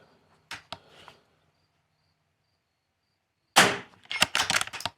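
Rimfire rifle shots in an NRL22 match, two sharp cracks early followed after a pause by a loud burst of impact-like clatter and rattling, close and distinct against silence.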